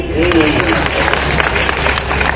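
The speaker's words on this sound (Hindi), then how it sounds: "आरती खत्म हुई, तालियां बजाइए" An audience at a poetry recital event applauds with a steady wash of clapping, fairly loud and sustained, while a voice speaks over it.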